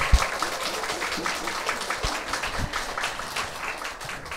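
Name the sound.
applause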